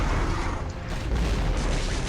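A loud, continuous rumbling boom fills the whole stretch, a dense blast-like roar with no voices, from an explosion in the video game Devil May Cry.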